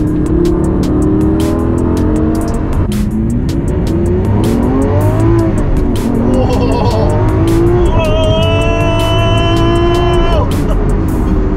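A Lamborghini with a single-clutch gearbox accelerates hard. The loud, close engine roar climbs in pitch through each gear, with abrupt kicks at the shifts and sharp crackles, and a voice briefly joins in.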